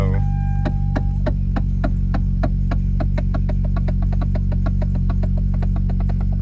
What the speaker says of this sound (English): fixing the steering wheel click in this Veloster